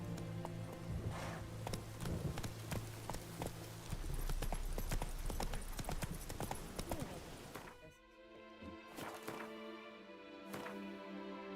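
Horse hooves clip-clop steadily on a road in The Witcher 3, a brisk, continuous rhythm with occasional louder strikes, carried under game music and ambience; the pace loosens near the end.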